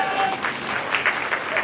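An audience at a business leader's speech event claps steadily, a moderate wash of many hands with a faint voice underneath.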